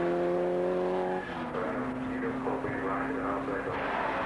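A Scarab Formula Vee race car at Silverstone passes on the track, its engine a steady droning tone that shifts as it goes by, with a commentator talking over it.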